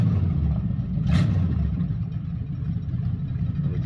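A 1969 Chrysler 300 street machine drives along, its engine giving a steady, loud low rumble throughout with a brief rougher surge partway through.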